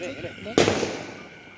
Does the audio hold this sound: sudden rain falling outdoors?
no